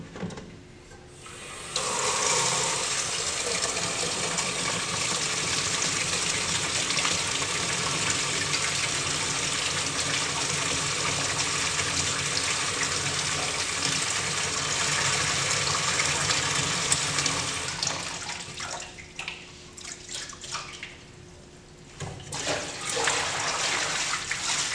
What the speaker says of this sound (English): I'm going to run water over this cylinder inside of the sink.